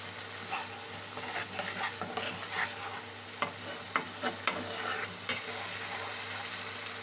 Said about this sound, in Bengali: হলুদ গুঁড়ো স্বাদ মতো লবণ হালকা হালকা জল দিয়ে মশলাটা কষিয়ে নেবেন